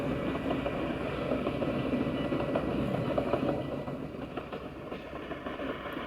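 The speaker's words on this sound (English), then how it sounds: "I'm an Enderman driving a train" A video game train rolls along with a steady rumbling, rattling drone, fairly loud and continuous, easing slightly toward the end with no talk over it.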